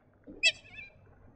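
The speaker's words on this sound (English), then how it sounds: "Eurasian coot" Eurasian coot at a freshwater lake giving a single short, bright call that rises and trails off quickly, close and fairly loud over a quiet background.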